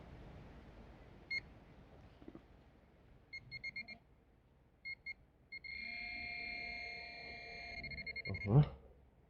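A metal detector sweeping a field over a thin Soviet-era five-kopeck coin gives short repeated beeps, then a sustained steady tone, and ends in a loud close rustle or thump.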